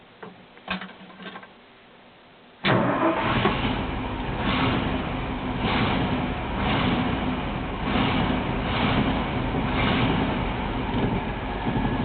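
A 1963 Ford F750 fire truck engine cold-starts with a sharp crank, then settles into a steady, loud, rumbling idle with a faint rhythmic pulse, close to the microphone after a few quiet clicks.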